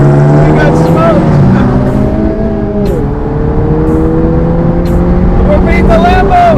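A loud Jeep Trackhawk pulls hard in a drag race against a Lamborghini, its engine roaring steadily close to the microphone as the pitch climbs and drops through gear changes, with voices underneath.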